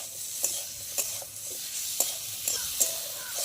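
Tomato and coriander leaves are stirred in a frying pan, giving a low steady sizzle with a few sharp scrapes of the spatula at irregular intervals, close by and without voices.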